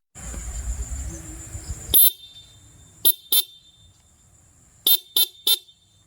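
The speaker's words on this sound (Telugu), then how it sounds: "సింగిల్ హార్న్ కూడా ప్రొవైడ్ చేశారు" Single horn of a Honda Shine 125 motorcycle, six short loud beeps: one, then a pair, then a quick run of three, sharp and close against quiet after some earlier background noise.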